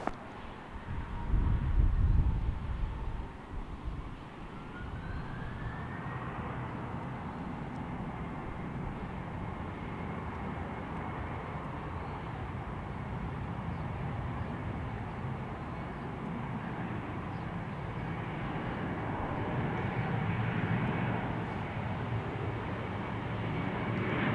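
A Delta airliner takes off from runway 34 right, a faint, distant jet roar that swells early, rises in pitch and then holds as a long steady rumble, with no nearby voices.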